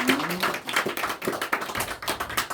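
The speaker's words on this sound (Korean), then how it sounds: "우리 하나님께 영광의 박수로 올리겠습니다." Church congregation clapping during a Sunday morning worship service, a brief burst of uneven hand claps and taps from several people, moderately quiet and close, with no talking.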